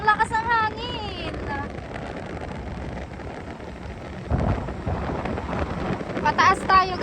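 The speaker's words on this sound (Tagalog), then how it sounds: "ang lakas ng hangin" Strong wind buffets a handheld microphone at a seaside tourist cove, a rough roaring rumble that surges and fades, with bursts of talk at the start and end.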